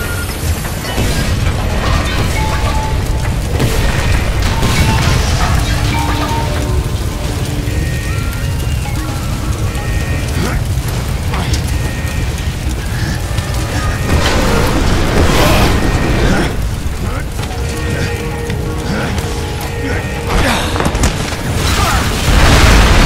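Gravity core generators exploding in Bulletstorm: a dense, sustained roar of blasts, crashing debris and rumbling that stays loud for over twenty seconds, with repeated heavier booms breaking through the wall of noise.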